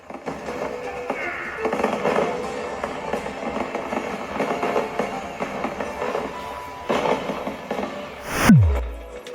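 A steady stream of crackling, popping fireworks with a busy crowd-like hum, ending in a sharp descending whoosh and boom near the end, in a video game's festival gathering hall.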